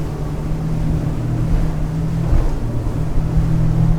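A Fjord 41XP boat powered by Mercury V12 outboards runs at full speed, giving a loud, steady engine roar with wind and water rush that continues unbroken throughout.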